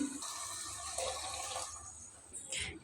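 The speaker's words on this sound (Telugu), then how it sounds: "దీనిలో వాటర్ వేసేసేద్దాం" Water pours into a pan of tomato gravy rice on a home stove, a steady running splash lasting a few seconds, with a brief louder gush near the end.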